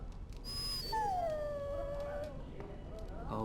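In the Dragon Age: Origins video game, a dog gives a long, drawn-out whimper that slides downward in pitch over a steady low background drone, with softer whines around it.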